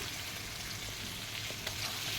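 Split green chillies fry in a hot pan with turmeric and salt, giving a steady, close, crackling sizzle that holds evenly throughout with no talking.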